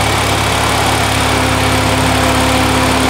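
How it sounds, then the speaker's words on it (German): A turbocharged BMW E46 engine running through a newly fitted exhaust system gives a loud, steady droning rumble with a constant buzzing tone and no voices. "wir haben ja unsere neue Auspuffanlage drin"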